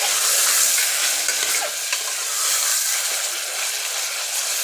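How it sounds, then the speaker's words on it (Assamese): Goat meat fries in a pressure cooker over a low flame with a steady, loud, dense sizzle and scraping stirring throughout. "মাংসখিনি দি ভাজি থাকিব"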